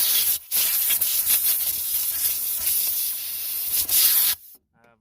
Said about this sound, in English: so I use compressed air